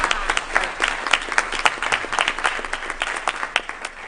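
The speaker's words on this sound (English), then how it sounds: "Let's give them a round of applause." An audience applauding at the close of a recruiting roadshow event, dense steady clapping from many hands in a room, sustained and fairly loud throughout.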